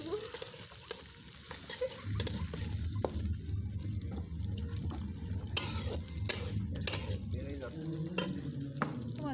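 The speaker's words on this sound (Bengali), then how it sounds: "পেঁয়াজ রসুন আদা কুচি জিরা এগুলা সবগুলো এখন সুন্দর করে ভেজে নেব, সফট হয়ে আসা পর্যন্ত।" Chopped onion, garlic, ginger and cumin fry in a home kitchen pan over a stove, a steady sizzle with scraping stirs, while background voices and clatter come and go.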